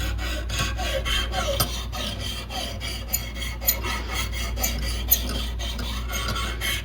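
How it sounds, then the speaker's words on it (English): A Lansky sharpening stone rasps over a knife edge in light, rhythmic back-and-forth strokes, steady and close. No voice can be heard. "I would just flip it over this last time and lightly go over it, just to get rid of that burr."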